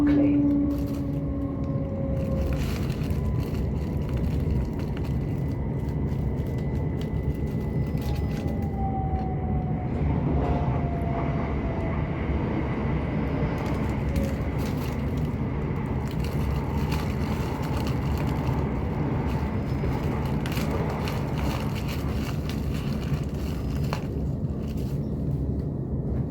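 Southern passenger train running in on the approach to Brockley station, a steady rumbling rail roar throughout with a few faint falling squeals, heard from inside the carriage.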